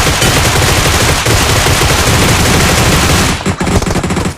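Loud, dense automatic gunfire in a close-range PUBG Mobile fight, continuous rapid bursts that cut off briefly near the end before scattered shots resume.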